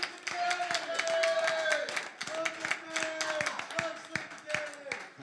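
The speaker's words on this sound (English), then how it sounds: "Give yourselves a big round of applause." Live-show audience clapping as a burst of applause that swells and then thins into scattered claps, sounding close and lively, with sustained tonal sounds and a voice running through it.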